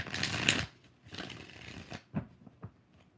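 Tarot cards being shuffled by hand during a live reading, with a dense riffling burst at the start, a longer shuffle in the middle and a few soft taps and slaps after.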